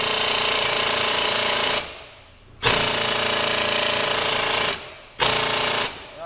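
A hammering power tool working on a car brake, rattling loudly and close in three rapid bursts, the middle one longest, separated by short pauses.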